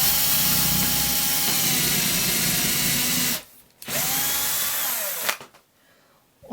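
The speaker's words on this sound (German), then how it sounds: "Da brauchen wir Bohrer. Und dann bohren wir uns ein gerades Loch." Power drill boring a straight hole into a block of wood for a DIY candle project, a loud steady whine for several seconds, then cutting off, with a brief second burst near the end.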